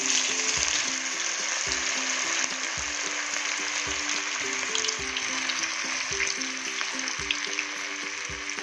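Masala-coated cauliflower pieces deep fry in hot oil for cauliflower chilli, a dense, continuous sizzle with faint stirring clinks and no speech.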